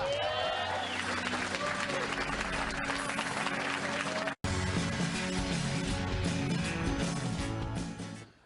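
A television studio audience claps and cheers during a late-night comedy talk show, a loud sustained burst with a brief cut midway, then continuing before fading out at the end.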